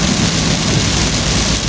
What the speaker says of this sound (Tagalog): Grabe yung ulan dito sa Tinok.